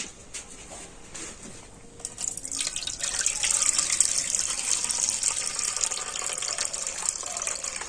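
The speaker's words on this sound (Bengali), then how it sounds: "আর জলটা আবার আমি ঢেলে নেব" Water is poured off washed raw potato pieces. After about two quiet seconds a close, steady gush of pouring water starts and runs to the end without pause, with no talking.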